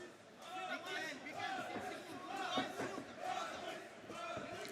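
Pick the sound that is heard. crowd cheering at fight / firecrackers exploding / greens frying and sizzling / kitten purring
crowd cheering at fight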